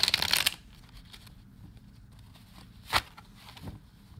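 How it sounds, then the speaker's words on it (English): Delta Enduring Tarot cards are shuffled, a brisk riffling burst at the start followed by quiet handling and a couple of sharp card snaps, close and without talk. "shuffling's not my forte today"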